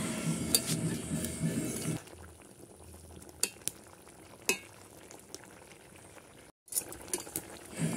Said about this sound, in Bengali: তো মাছটা দিয়ে আর একটুখানি অল্প ফুটিয়ে নিয়ে তারপরে নামিয়ে নেব।